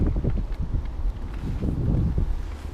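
Gusty wind rumbles loudly against the microphone at a lake in Kyiv during rain, a continuous low buffeting roar with uneven surges throughout.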